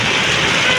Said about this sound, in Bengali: প্রচুর পরিমাণের বৃষ্টি হইতেছে হুট করেই